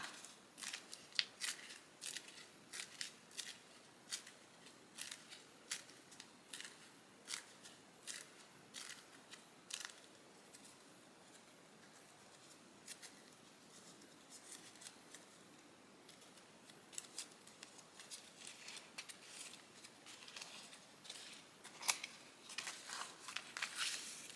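Sheets of 28-pound copy paper are crumpled back into a ball by hand, a long run of dry, crisp crackles and crunches in irregular bursts, close but fairly quiet.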